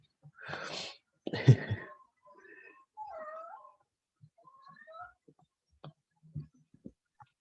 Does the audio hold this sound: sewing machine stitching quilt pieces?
no